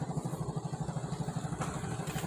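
Loud, rough motorcycle engine idling with a fast, regular throbbing pulse, fairly close and uninterrupted, with no talking over it.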